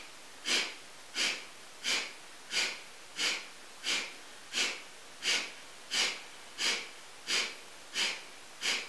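Rapid rhythmic breathing exercise from Kundalini yoga, about one forceful breath per second, with thirteen sharp, even nasal bursts repeated steadily and close, with no talking.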